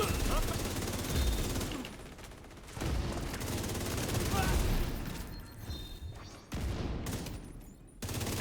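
Heavy video game gunfire, dense overlapping bursts of automatic shots and booms that come in waves with brief lulls, loud and continuous, mixed with faint talk.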